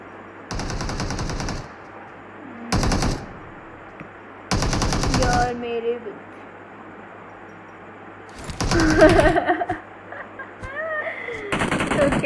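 Rapid bursts of automatic gunfire from PUBG Mobile crackle in separate volleys, each lasting a second or so, with electronic game sounds and faint chirps between them.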